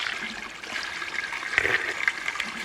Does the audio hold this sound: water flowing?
yes